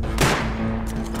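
Gunfire in the Rust survival game, a sharp loud shot burst near the start followed by a decaying ring and a fainter second report near the end, no talking.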